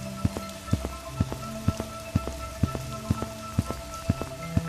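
Heavy rain pours down in an animated cartoon about a poor family in the jungle, a loud dense hiss with a regular series of thudding beats and tonal accents running under it.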